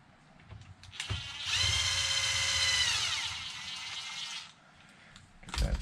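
A power drill whirs for about three seconds as it backs a screw out of a small Arrma Infraction V2 RC car, preceded and followed by soft handling clicks and knocks, with no talking.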